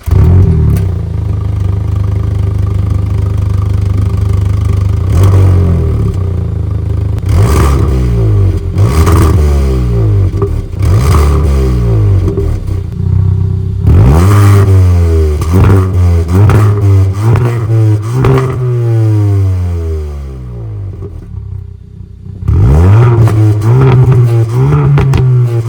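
A Hyundai i20N's engine starting and revving loudly in repeated rising and falling bursts, then settling to idle before a final rev, close and without talk.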